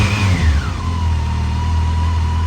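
A 2006 Yamaha FJR1300A motorcycle engine idles steadily close by, a low rumbling hum with a brief rev near the start that settles into an even drone.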